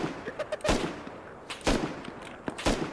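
Gunfire in the video game Rust: three sharp, loud shots spaced about a second apart, each followed by a short reverberant tail, with lighter clicks and rattles in between.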